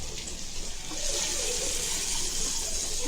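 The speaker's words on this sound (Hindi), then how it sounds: "हल्दी डालते ही पानी डालेंगे" Water pours steadily into a cooking pot holding onion and turmeric, a loud, close, continuous splashing rush that swells after the first second and keeps going to the end.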